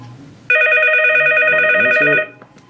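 An ESI ePhone4 desk phone rings in a single electronic burst of about two seconds, loud and steady with a bright warbling tone, then cuts off. Faint low murmurs sit beneath it.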